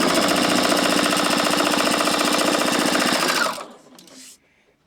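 A sewing machine stitches chevron quilt pieces with a loud, rapid mechanical chatter that runs steadily for several seconds, then cuts off into near quiet.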